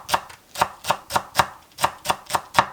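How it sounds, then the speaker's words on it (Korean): Steady knife chops slicing vegetables on a cutting board, about ten crisp strikes in a regular rhythm, close and clear with no talking. "그냥 썰어서 다시 한번 돌려서 썰어줘도 됩니다"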